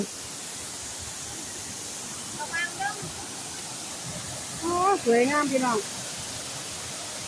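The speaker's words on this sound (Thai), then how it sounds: "น้ำกำลังไหล" Water pours steadily at Thao To waterfall, a constant broad rushing hiss filling the scene, while someone speaks briefly over it in two short bursts.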